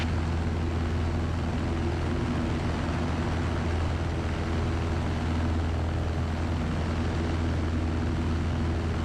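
A light aircraft in flight from Cody toward the Wood River, its engine and propeller drone a constant, dense, steady roar inside the cabin, with no change in pitch and no voices.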